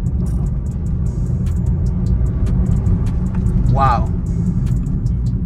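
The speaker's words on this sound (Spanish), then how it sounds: "Voy en tercera, revolucionadito, 2500 revoluciones y acá coge el turbo full" A Chevrolet Onix RS with a turbo engine pulls hard in third gear from around 2500 rpm as the turbo comes on, its steady engine drone filling the cabin while someone talks over it.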